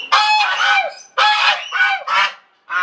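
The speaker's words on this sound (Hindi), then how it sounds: "और उधर क्या पीछे पानी में? हमारी बतखें।" Ducks by the water at an ashram call loudly and close by, giving about five harsh, honking bursts in quick succession with short gaps between them.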